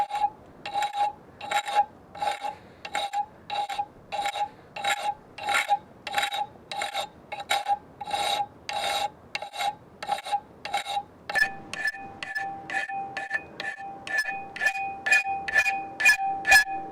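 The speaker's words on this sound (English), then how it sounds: "we just need to clean it up a bit with the file" A hand file rasps over a knife blade after grinding, in steady repeated strokes, about two per second, with a ringing metallic tone on each pass; close and alone, with no talking.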